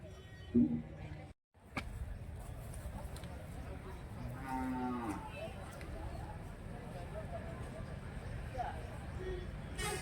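Young calves at a livestock sale in Santhipuram, Andhra Pradesh, give a few lowing moos through a steady crowd murmur. Voices talk throughout and a short dropout briefly cuts the sound early on.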